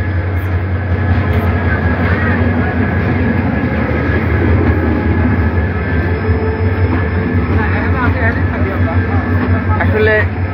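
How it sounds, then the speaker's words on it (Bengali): The Karatoya Express passenger train pulls out of Lalmonirhat toward Burimari after an accident had halted traffic, giving a loud, continuous rumble with rail clatter and a faint squeal while someone talks over it. "এই মুহূর্তে করতোয়া এক্সপ্রেস ট্রেনটি লালমনিরহাট থেকে বুড়িমারির উদ্দেশ্যে যাত্রা করছে"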